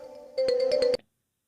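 A phone ringtone for an incoming call at night: a steady tone, then a louder burst of rapid repeated electronic pulses for about half a second before it cuts to silence.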